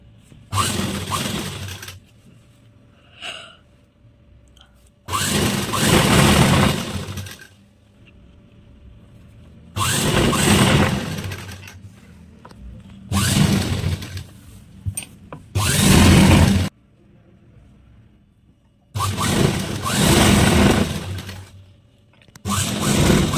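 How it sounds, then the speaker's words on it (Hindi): Sewing machine stitching the legs of a circular umbrella plazo, running in loud bursts of a second or two separated by short pauses, repeated about six times, close and alone. "इसके जो पैर हैं उनकी हम सिलाई लगाएंगे दोनों की।"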